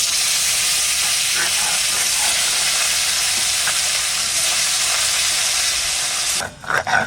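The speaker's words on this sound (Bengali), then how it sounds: "তেল গরম হয়ে গেছে মাছগুলো ভেজে নেব" Lata fish, bought live, sizzle steadily in hot oil in a village kitchen, a loud continuous frying hiss with small pops that suddenly thins out near the end.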